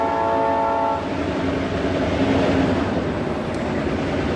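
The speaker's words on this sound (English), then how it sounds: "there's a train right behind me" A train passes close by, starting with a blast of its horn over a heavy, steady rumble of wheels and cars, with no voices heard.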